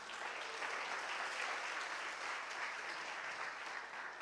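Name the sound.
congregation applause in church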